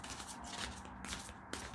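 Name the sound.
shuffling large tarot cards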